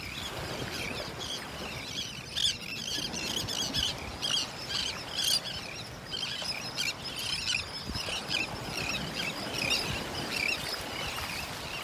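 A flock of birds chirps continuously on a beach in North Naples, Florida, high peeps and calls overlapping, over a steady outdoor rumble of wind or surf.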